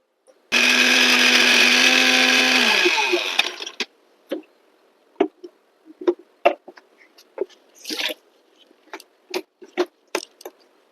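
A kitchen mixer grinder whirs loudly for about two seconds while blending green chillies into a paste, then winds down, followed by a series of sharp clatters and knocks.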